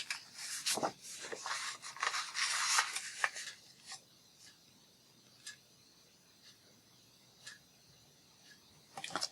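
Scissors rasp through printed paper, trimming the top off a sheet in a crafting session, with a dense run of close cutting strokes early on, then sparse faint snips and ticks with quiet gaps between.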